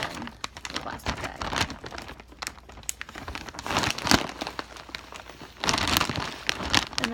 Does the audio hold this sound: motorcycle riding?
no